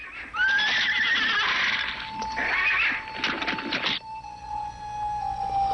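A white horse whinnies loudly and shrilly for several seconds, close by and alone, the call rising and wavering before a steady high tone trails off toward the end.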